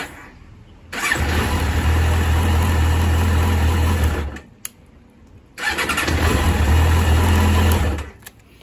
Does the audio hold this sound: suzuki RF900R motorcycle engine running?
yes